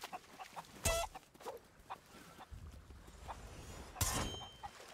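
A chicken clucks in a merchant-themed video game, with two louder bursts against a busy background of faint game sounds and no talking.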